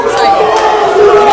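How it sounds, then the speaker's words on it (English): A basketball crowd at a K1 league game booing a player, a loud sustained roar of jeering voices filling the arena. "he's hearing the boo birds from the crowd"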